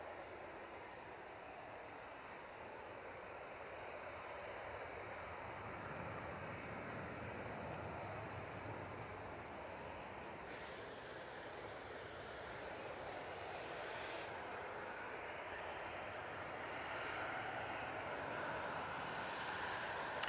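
A Ryanair Boeing 737-800 departing Manchester Airport for Belfast produces a faint, continuous distant jet roar that holds steady and swells a little toward the end, with no voices over it.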